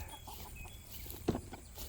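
Backyard chickens near a fence gap give one short, soft cluck midway through an otherwise quiet outdoor stretch, with a faint background hiss.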